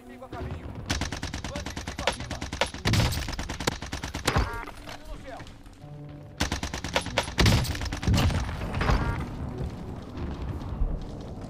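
Rapid bursts of automatic assault rifle fire in the video game Warzone with a C58 loadout, loud, close and sustained, dropping out briefly midway before resuming, with voices talking underneath.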